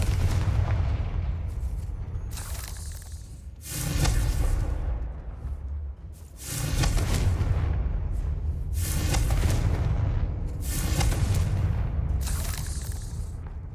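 Repeated Confringo blasting-spell explosions in Hogwarts Legacy, loud booming bursts with fiery crackle and whoosh, four or five heavy blasts spaced a few seconds apart with a rumbling bed between.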